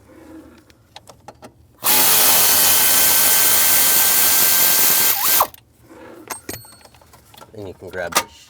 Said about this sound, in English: You're going to use an E5 socket. Take these 2 studs off.